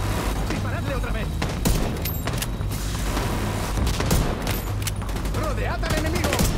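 Rapid bursts of automatic gunfire and sharp shots crackle continuously through a firefight in the video game The Division 2, while voices shout over the shooting.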